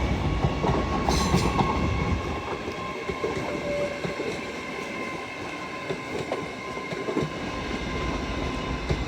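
A train runs through Doncaster station on the East Coast Main Line, with a steady loud rumble of wheels and engine, rhythmic clatter and a brief high squeal near the start, close and continuous throughout.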